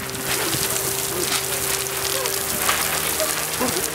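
Steady rain patters across the whole stretch during a TV drama rain-scene shoot, a dense hiss of drops with a low hum underneath and faint voices in the background.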